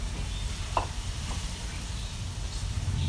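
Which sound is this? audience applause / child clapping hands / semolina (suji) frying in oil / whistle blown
semolina (suji) frying in oil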